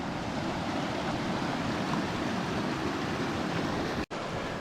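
High water rushes fast through a small creek, a constant broad roar of torrent close by with no pauses, only a brief dropout near the end.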